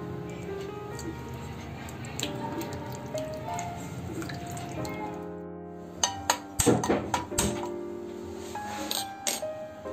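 Dried fish being rinsed by hand in water for a spicy dried-fish chutney, with scattered drips and splashes that grow livelier near the end over a steady tonal background.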